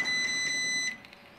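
A cooking appliance beeps with a steady high electronic tone like a fire alarm, sounding continuously for just under a second at moderate loudness before cutting off, followed by quiet room noise.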